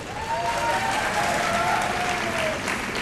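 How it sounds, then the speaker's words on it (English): An audience at a televised singing competition, Vocal Fusion Season 4 Top 6, gives a steady, full round of applause that holds at an even level throughout, with a thin whistle-like tone running through the crowd noise. "Quick round of applause for them."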